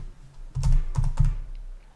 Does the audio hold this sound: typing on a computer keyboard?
yes